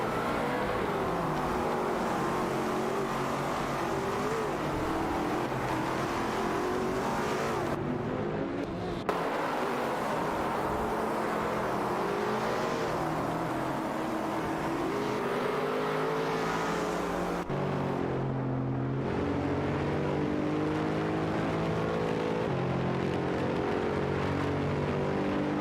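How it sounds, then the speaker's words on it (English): Race cars speeding in a video game race, engines droning continuously with rising and falling revs and whooshing passes, loud and steady throughout with a couple of abrupt cuts. "Racing car dashing away."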